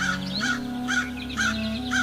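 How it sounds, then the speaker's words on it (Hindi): A crow chick gives a steady run of rhythmic caws, about five evenly spaced calls over a constant tonal drone, close and clear with no talking. "उसमें से एक छोटा सा कौवे का बच्चा बाहर निकला।"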